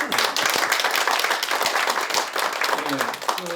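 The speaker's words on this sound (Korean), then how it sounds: "박수 한번 부탁드리겠습니다." A crowd bursts into steady, dense applause at a Gyeongsangbuk-do provincial agreement signing ceremony, continuing for several seconds, close and loud throughout.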